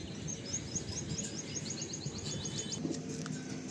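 Pigeons, high-flying Tikki Golden Eyes Arsad breed, released by hand, with bursts of wing flapping and chirping calls over a low background hum, fairly faint.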